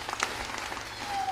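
Applause at a Catholic church gathering, a soft wash of many hands clapping at a steady level through the short stretch, fairly distant and without voices over it.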